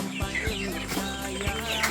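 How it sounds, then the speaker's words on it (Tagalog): Chickens cluck repeatedly nearby in short, overlapping bursts, with busy outdoor background noise, in La Union, Philippines. "nakasunod ng mga manok ni Lolo"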